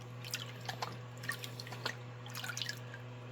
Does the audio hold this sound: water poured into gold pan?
yes